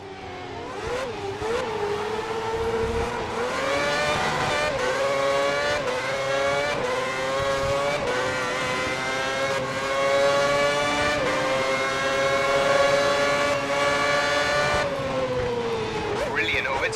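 Formula 1 cars racing in F1 2010, engines screaming and revving up and down through gear changes with a loud, sustained whine and occasional tire squeal, close and continuous throughout.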